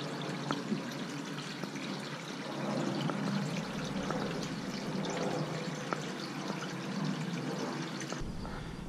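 Steady water pours onto a compressed coconut coir block for a raised garden bed, a continuous close splashing gush that runs without pause for several seconds before cutting off near the end.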